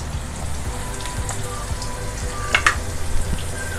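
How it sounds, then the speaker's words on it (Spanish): Potatoes and garlic frying in a pan, a continuous close crackling sizzle with a couple of brief utensil clicks near the end, no talking. "Lo primero que vamos a sofreír son las patatas con los ajos."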